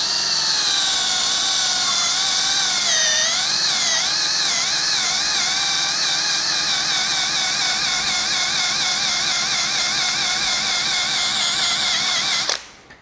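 A polishing machine buffs car paint on a 2022 BMW M3 Competition (G80), giving a loud, close, high-pitched motor whine whose pitch wavers early as it moves over the panel, then holds steady before stopping abruptly at the end.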